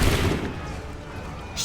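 Gunfire from the video game Assassin's Creed 3: a loud, booming volley that bursts at the start and rumbles off into a decaying wash.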